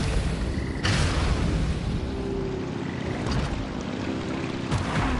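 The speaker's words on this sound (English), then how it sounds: "Rev the engines!" Boat engines in the Genshin Impact video game rev up as a broad, steady roar with a low rumble and a few brief surges. The sound holds loud throughout and plays alone, with no one talking.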